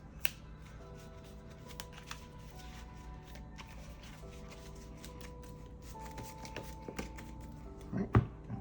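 A deck of cards is shuffled several times, with crisp riffling bursts and a sharp snap near the end, over a faint tonal hum.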